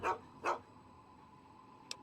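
Dogmeat, the dog companion in the Fallout video game, gives two sharp, close barks in quick succession, followed by a quiet pause and a brief faint click.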